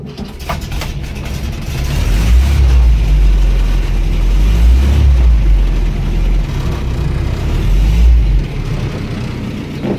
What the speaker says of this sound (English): Right, now it's started.